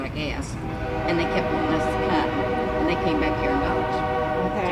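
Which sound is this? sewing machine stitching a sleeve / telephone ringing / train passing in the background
train passing in the background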